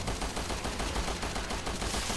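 Video game gunfire aimed at a creature's legs comes as rapid, dense bursts of shots that hold at a steady loudness throughout, with no voices over them.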